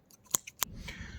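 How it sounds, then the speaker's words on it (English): Scissors snipping through potato plant stems during a garden harvest, two sharp close cuts followed by rustling of foliage. "So, these aren't quite the right scissors for this,"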